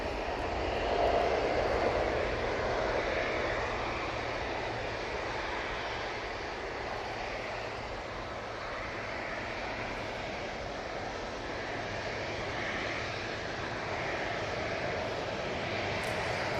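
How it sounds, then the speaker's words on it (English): An Aer Lingus airliner takes off from Manchester Airport, bound for Dublin, its engines a broad, sustained roar that swells early and then holds steady as it climbs away. "Aer Lingus A380. Now on the roll back to Dublin."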